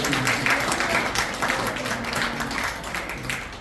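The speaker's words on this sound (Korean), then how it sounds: "박수를 한번" Church congregation in a hall at a New Year ceremony giving a round of applause, steady moderately loud clapping throughout with a low murmur beneath.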